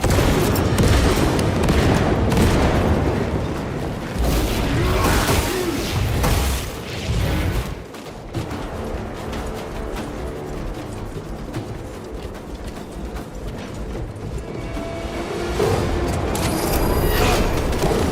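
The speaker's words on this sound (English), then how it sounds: "Frag grenade." Heavy booming blasts and dense battle noise from Warhammer 40,000 Space Marine 2 as a frag grenade goes off amid continuous gunfire and crashes, loud and chaotic throughout.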